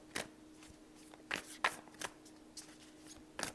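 Playing cards being handled and drawn from a deck, a handful of brief papery snaps and flicks at irregular intervals, close and fairly quiet against a faint hum.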